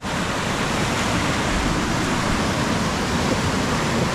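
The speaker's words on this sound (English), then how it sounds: "There's this waterfall." Steady, roaring rush of falling water, loud and continuous with no breaks, close to a waterfall in Algonquin.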